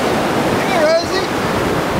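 Ocean surf at Lido Beach washes in a continuous loud roar with wind buffeting the microphone, and a brief high voice cuts through in the middle.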